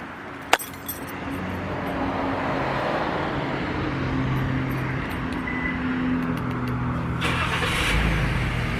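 A Jeep SRT8 engine cold start: a brief click and crank, then a steady, fairly quiet rumble that swells slightly near the end, with light metallic clinks over it.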